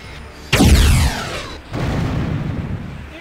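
A weapon fires in Unreal Gold, a loud booming discharge with a sweeping, descending ring, followed about a second later by a second rumbling blast that fades out.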